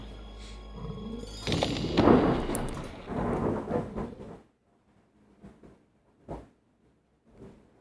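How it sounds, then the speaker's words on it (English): Loud thunder crashes in the 1999 Windows game Dark Secrets of Africa, a heavy rumbling roll that swells suddenly, lingers for a few seconds, then cuts off to near silence broken by faint, sparse thuds. "it was like a really loud thunder"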